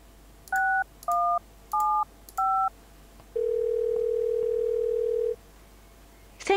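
Telephone keypad dialing in the Thimbleweed Park video game: four distinct two-tone beeps in quick succession, then a single steady tone lasting about two seconds before a brief click, all clear and alone without talk.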